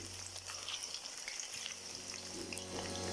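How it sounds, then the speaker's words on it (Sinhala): Thin cassava slices fry in hot oil with a soft, continuous sizzle and faint crackling, quiet and steady with no talk. "පේනවා දෙදේ හොඳින් බැදෙනවා"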